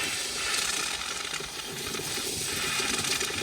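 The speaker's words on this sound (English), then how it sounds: "That's all the air you're hearing inside coming out." Trapped air hisses and sputters out of a newly pressurized cold-water line in an off-grid house in the woods, a steady broadband rush lasting throughout without a break.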